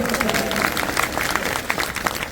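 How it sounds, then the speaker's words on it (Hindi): A crowd at a public rally and thanksgiving gathering in Lahar claps steadily, fairly close and dense, while a speaker's voice carries over the applause. "अरे बजाओ ताली मेरी महिलाओं के लिए"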